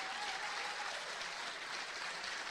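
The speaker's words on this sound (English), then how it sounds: "give a big round of applause for the speakers I've had so far" A steady wash of audience applause for the speakers at a Labour 4 Indy podcast event, dense and even throughout, moderately distant, with no clear talk over it.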